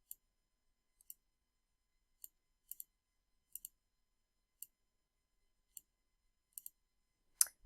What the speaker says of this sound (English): I'm going to click on my layering tool